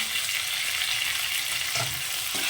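Chopped tomatoes and grated ginger fry in a pan with a steady, dense hiss of sizzling oil throughout, broken by a couple of soft stirring scrapes near the end.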